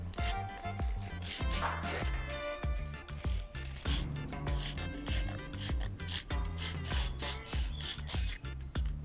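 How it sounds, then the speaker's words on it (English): Sandpaper rubbed over the slip ring of an old RO (reverse osmosis) motor gives a continuous, dense scraping rasp with rhythmic strokes, loud and close throughout, with tonal musical sound running underneath. "This part is called the slip ring, and it needs to be cleaned with sandpaper."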